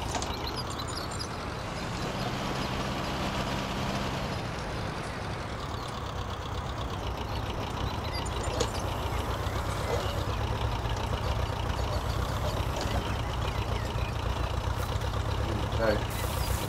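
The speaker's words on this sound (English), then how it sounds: "we've got the tractor here" A 1953 tractor engine runs steadily while drilling barley and oats in a field, a continuous loud low rumble and chug throughout, with a voice talking over it.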